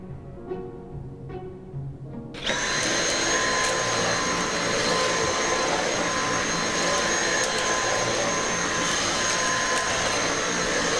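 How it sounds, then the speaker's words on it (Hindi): A vacuum cleaner switches on indoors with a sudden jump into a loud, steady whining roar that holds without change, after a few seconds of quieter room sound. "क्या तुम पहले दूसरे रूम में वैक्यूम कर दोगे?"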